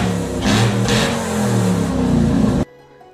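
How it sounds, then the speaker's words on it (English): BMW E46 with a V8 running through an aftermarket exhaust, a loud, deep, rumbling drone that holds steady with a couple of throttle blips, then cuts off abruptly near the end, leaving near silence. "Just some happy V8 noises."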